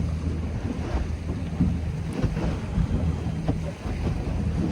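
Low rumbling engine drone from speedboats with triple 400 and 450 outboard engines, mixed with wind buffeting and water noise, steady throughout, as the powerful boats run nearby.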